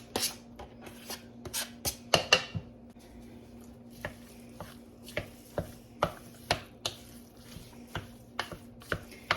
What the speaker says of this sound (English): I want to clean up my green onions and we're going to chop these up